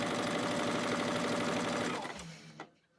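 A sewing machine stitches a fabric bowl coozie with a steady, rapid mechanical whir and needle chatter, then slows and stops near the end, leaving a brief quieter tail.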